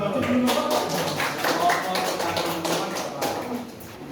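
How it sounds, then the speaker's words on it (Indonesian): Small audience at a school counseling talk clapping for a man, brief scattered handclaps close by, mixed with talking voices and fading toward the end. "Mas Hadi, tepuk tangan buat Mas Hadi ya"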